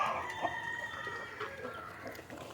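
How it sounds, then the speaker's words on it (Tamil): Native country chickens cluck faintly in the distance against steady background noise, with no one speaking. "இப்போ கோழி கொஞ்சம் தான் ப்ரோ வரான்."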